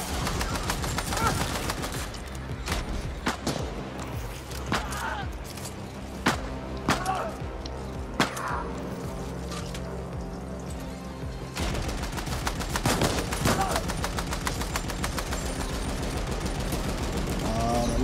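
Gunfire in The Ascent, a cyberpunk action shooter, with bursts of rapid shots and sharp single cracks scattered through the clip over game music, heavier toward the end, with a player talking over it.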